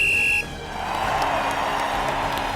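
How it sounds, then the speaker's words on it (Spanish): A referee's whistle blows sharply to start a football match between Uruguay and Argentina, a steady shrill blast at the outset before it cuts off, followed by a broad roar of crowd noise. "El árbitro hizo sonar su silbato y comenzó el partido."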